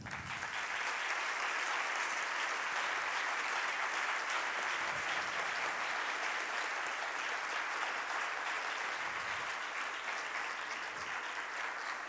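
Steady, sustained applause from a large crowd at a university campus anniversary ceremony, a dense wash of clapping that holds evenly without pause.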